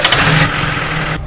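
The BMW engine of a military vehicle revs briefly, a loud close roar that rises and then holds at a steady drone before cutting off.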